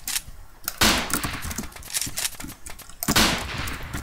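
Rapid bursts of gunfire in the Roblox game Combat League: two loud volleys opening near 0.8 and 3.1 seconds, each followed by a dense rattle of shots, with no talk over it.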